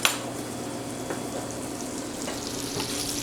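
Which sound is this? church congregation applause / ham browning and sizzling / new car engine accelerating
ham browning and sizzling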